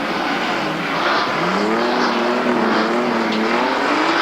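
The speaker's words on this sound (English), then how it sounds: "Flag is up. They're racing, and it's Brock getting away smartly." Australian Touring Car Championship cars roar away from the start at Surfers Paradise International Raceway in 1985, a loud, dense wall of engines rising in pitch as they accelerate, heard from trackside.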